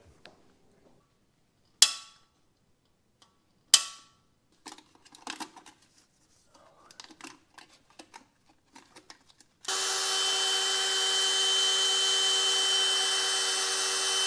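Bolt extractor worked on a stuck bolt on a BMW M54 engine: a few sharp metallic knocks and scattered scrapes and clicks, then a loud, steady power-drill whir that runs to the end.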